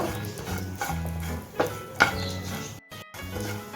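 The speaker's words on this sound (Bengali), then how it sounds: "এক মিনিটের মতো একটু ভেজে নিলেই হবে" Semolina being fried and stirred in a pan on low heat for sweet laddoos, with soft scraping strokes and a few sharper clinks of spoon against metal over a gentle sizzle.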